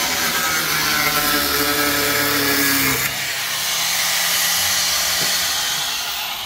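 A loud, steady mechanical whine from a power tool cutting through a wooden pole on a roof-building site, with the pitch dropping partway through as the cut continues.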